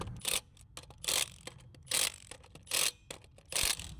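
A ratchet cranks down bolts on a Polaris Pro R side-by-side, firing off five short bursts of rapid clicking with brief quiet pauses between them, close up and fairly loud.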